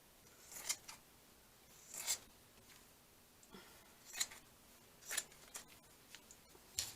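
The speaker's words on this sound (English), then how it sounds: "use my fabric scissors" Fabric scissors snip through thin cheesecloth in a quiet room, several separate crisp cuts with short pauses between them, close and soft.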